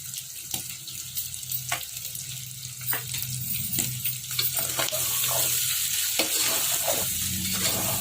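Mutton liver sizzles steadily in hot oil with chili powder and salt, Telangana style, with a spoon scraping and clinking against the pan at irregular intervals.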